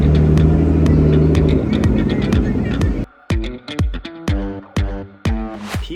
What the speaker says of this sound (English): there's cars coming in.